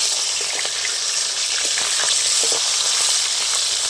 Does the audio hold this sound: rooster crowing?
no